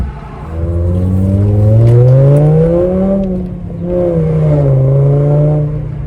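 A Volkswagen with the 07K 2.5L five-cylinder and a straight-piped, muffler-delete exhaust drives by, a loud droning engine note that rises, dips briefly and pulls again, close and steady with no talk.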